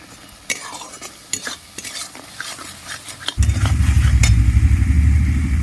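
Okra sautéed in a pan with turmeric and chilli powder, heard as repeated spatula scrapes and clinks over a sizzle, then a loud low rumbling hiss that takes over partway through.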